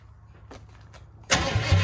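A Holden HZ One Tonner engine cranks and catches on its first start in six years, roaring loudly to life after a quiet stretch of faint background noise, then settling into a rough, steady run.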